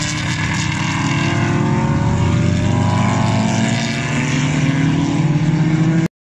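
A car accelerating hard at the Magny-Cours race circuit, a loud continuous engine roar with rising pitch sweeps that holds steady for several seconds before cutting off abruptly.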